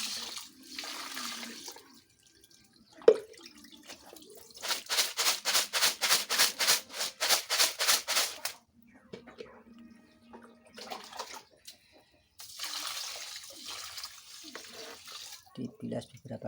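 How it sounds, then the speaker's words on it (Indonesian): Water swishes and pours as the filling for ketupat rice cakes is rinsed repeatedly in a basin, in rhythmic bursts of splashing with quieter pauses between. Faint speech can be heard in places. "Dibilas beberapa kali sampai bersih."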